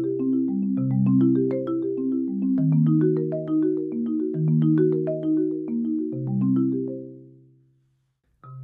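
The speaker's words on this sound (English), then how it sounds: "The eighth note pattern of the marimba part is based on both major and minor arpeggios within two" Marimba plays flowing eighth-note arpeggios through major and minor chords spanning two octaves, notes ringing and overlapping in a steady even pulse, solo and close, fading out at the end.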